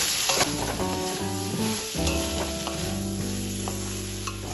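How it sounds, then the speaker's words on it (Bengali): Eggplant pieces frying in a pan for a drumstick-flower chorchori, sizzling steadily and loudly while being stirred, with soft scraping strokes throughout and no talk. "2 মিনিট পর আমি ঢাকাটা খুলে নিলাম। আবার একটু নেড়ে চেড়ে দেব।"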